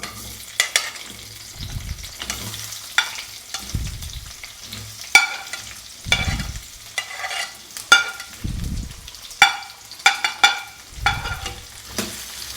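Onions sizzle steadily in a hot pan for mutton stew, with repeated scraping and clattering of a spoon stirring every second or two.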